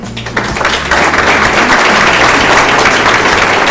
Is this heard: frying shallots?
no